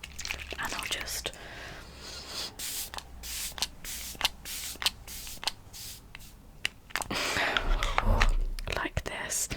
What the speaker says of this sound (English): I'll use my trusty BYOMA Balancing Face Mist.